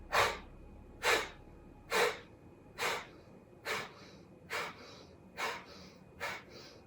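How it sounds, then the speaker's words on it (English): Eight quick, forceful nasal exhales pump out at a steady rhythm of about one per second in a breathing exercise, close and clear over quiet room tone. "it's just really these quick, short breaths"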